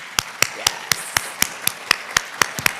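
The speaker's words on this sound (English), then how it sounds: "Please give them a round of applause." At a spring 2023 VCU graduation ceremony, roughly a dozen sharp, evenly spaced claps ring out in a steady rhythm, close and distinct over a low background murmur, like a few people or a small crowd clapping in unison.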